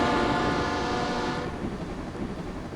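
A Trans-Siberian train running, with a sustained horn-like tone for the first half before it drops away to a steady rumbling roll of the carriages, loud and close.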